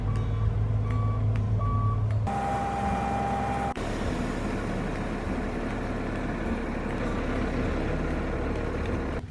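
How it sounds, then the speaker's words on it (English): A gravel truck arrives on a work site for an outbuilding, its steady high reversing beeps repeating over a loud, rumbling diesel engine and broadband road noise that continue throughout without speech. "the second gravel truck has arrived"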